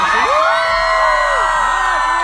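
Festival crowd at Hangout Music Fest in Gulf Shores, Alabama, cheering and whooping loudly and continuously in front of a stage, with rising and falling yells carried over a dense roar of voices.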